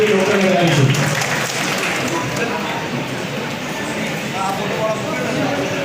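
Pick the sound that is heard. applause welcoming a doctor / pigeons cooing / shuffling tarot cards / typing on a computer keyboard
applause welcoming a doctor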